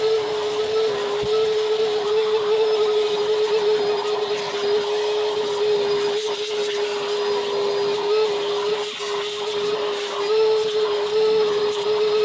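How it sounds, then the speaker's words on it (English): A vacuum cleaner runs continuously at close range while cleaning the seats of a Volkswagen Golf, a loud steady drone with a constant pitched whine and slight shifts as the nozzle moves over the upholstery. "Ensure the loose bits of debris have been vacuumed from the seats, including the gaps and crevices"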